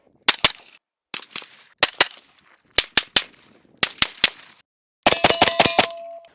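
An AR-15 in 5.56 fitted with a Griffin Armament suppressor fires outdoors in short strings of sharp reports, with pauses between pairs and triples and a faster burst at the end, each crack trailing a brief metallic ring.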